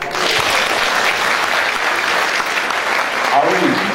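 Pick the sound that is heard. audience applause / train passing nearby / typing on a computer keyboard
audience applause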